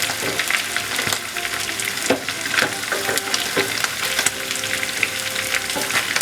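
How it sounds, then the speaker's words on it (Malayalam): Duck pieces shallow-frying in hot oil for a Christmas duck roast, a steady close crackling sizzle with occasional louder pops and stirring, no talk. "ഇത് ഒരുപാട് ഡീപ് ഫ്രൈ ആവേണ്ട കാര്യമില്ല, ഏകദേശം ഒന്ന് ഫ്രൈ ആയാൽ മതി."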